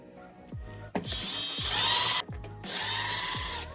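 A power drill removing screws from the dash panel of a 2001 Dodge Dakota, whirring loudly in two long bursts after some short clicks and handling knocks.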